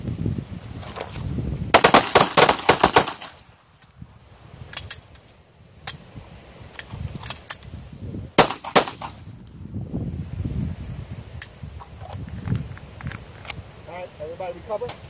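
Pistols fire during an outdoor shooting training drill, a fast volley of sharp shots from several shooters followed by scattered single shots, with an instructor and others talking in between.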